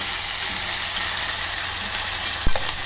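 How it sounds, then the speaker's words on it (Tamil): Onion, garlic and green chili sautéing in oil, a steady close sizzle and hiss throughout with a brief utensil clatter near the end; no talking. "இப்போ வந்து நம்ம இந்த வெங்காயம், பூண்டு, பச்சை மிளகாய் இதை வந்து சேர்த்துக்கலாம்"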